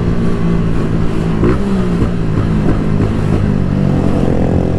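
A Start 190 motorcycle with a gearing that holds it back rides along a city expressway, its engine giving a loud, steady drone with a faint rise in pitch, close up and without talk.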